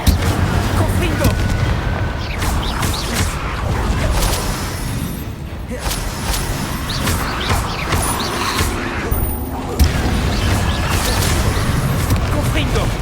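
Confringo fire-blast spells exploding in combat in Hogwarts Legacy, a dense, continuous wash of booming blasts and clattering mechanical impacts, with several sharper bursts standing out over a loud, busy battle background.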